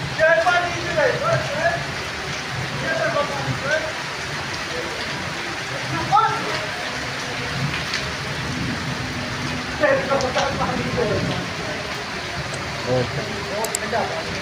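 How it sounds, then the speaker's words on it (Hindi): Heavy storm rain pours down in Lahore with a constant hiss, while voices talk intermittently over it. "बारिश हो रही है"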